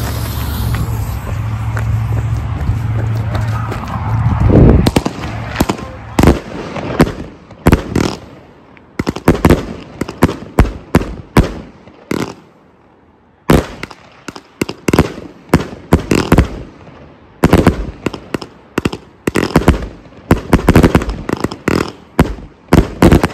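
A Mondo 50-shot, 500-gram firework cake fires off a rapid string of loud, sharp bursts after a steady hiss, the crackling shots coming in fast irregular clusters with brief gaps, outdoors and with no talking.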